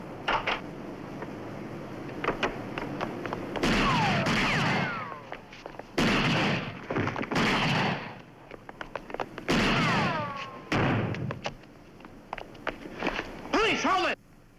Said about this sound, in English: Gunshots being fired at 622 West 16th Street.